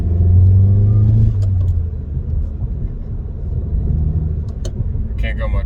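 Volkswagen GTI heard from inside while driving, a loud low engine rumble that drops after a second as it shifts, then a steady road drone, with a brief voice near the end.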